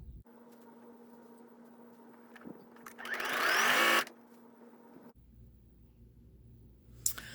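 A sewing machine stitching pieced quilt border units together, a short close whirring run that rises in pitch and speed before stopping, with quiet room hum around it.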